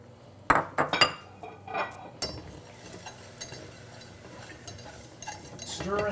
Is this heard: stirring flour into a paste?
yes